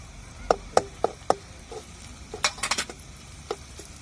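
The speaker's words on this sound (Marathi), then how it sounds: "आता आपले सगळे मसाले मिक्स करून आणि त्या मिरची मध्येच मसाले परतून घ्यायचे" Spice masala with chillies being stirred and fried in a pan for a drumstick (shevga) masala fry, heard as a few sharp, close spatula clinks and scrapes against the pan over a faint background hiss.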